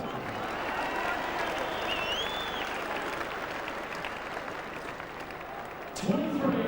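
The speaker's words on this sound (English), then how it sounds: "Devon Perry's just got a rousing round of applause" A football crowd at the 2000 WAFL Grand Final between East Perth and East Fremantle gives a player a long, steady round of applause, dense and distant, with a commentator talking over it.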